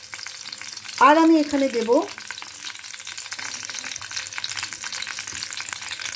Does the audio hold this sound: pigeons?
no